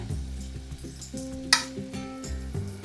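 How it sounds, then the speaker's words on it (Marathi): Onion and garlic sizzling and frying in a hot kadhai, a continuous soft crackle with a brief louder hiss as ingredients are stirred, alongside a steady background hum. "कढई तापलेली आहे आता आपल्याला कांदा टाकायचा आहे"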